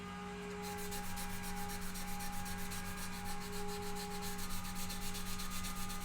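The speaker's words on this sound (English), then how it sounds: "Only the sound of sanding today." Steady, continuous sanding of a guitar body before clear coat, a close scratchy rubbing texture with fast repetitive strokes over a constant low hum, holding at even loudness for the whole stretch with no talk.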